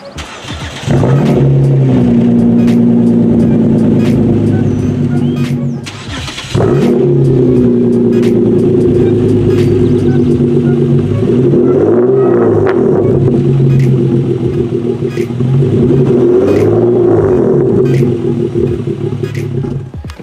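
A 2011 Hyundai Genesis Coupe engine cranks and catches, idles loudly up close, briefly cuts out, then restarts and is revved several times in rising and falling sweeps, with no talking over it.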